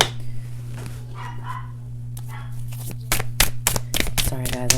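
A household dog barks in the background as a handful of quick, sharp yips under steady room hum, mixed with the snapping clatter of tarot cards being shuffled nearby.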